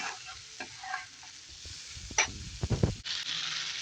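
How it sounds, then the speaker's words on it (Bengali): Noodle masala, Maggi seasoning, soy sauce and tomato sauce stirred in a hot pan, a soft sizzle broken by several close, brisk scraping strokes of a spatula, growing louder before a steady frying hiss takes over. "সব কিছু দিয়ে নেড়ে চেড়ে মিক্স করে নিচ্ছি।"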